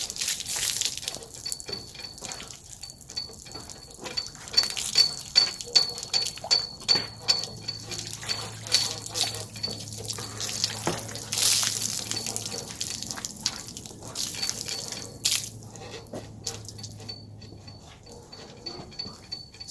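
Hot water from a bucket is poured over a stainless steel plow blade, giving irregular splashes and trickles with drips running off the metal, close and fairly loud.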